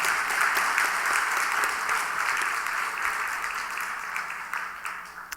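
A church congregation claps steadily, dense and sustained applause filling a large room, slowly tapering toward the end with no voices.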